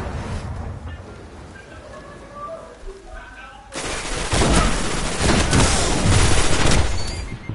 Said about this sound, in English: He popped his golden gun